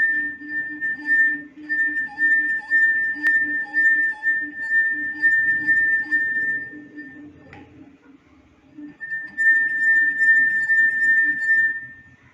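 A wet fingertip circles the rim of a drinking glass, drawing out a steady, pure ringing tone that holds for several seconds, breaks off briefly, then resumes just as clear and sustained.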